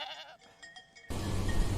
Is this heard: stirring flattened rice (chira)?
no